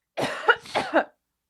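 A single close-up bout of coughing, a few quick harsh hacks in a row, then silence.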